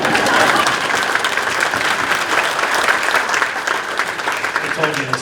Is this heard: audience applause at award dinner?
yes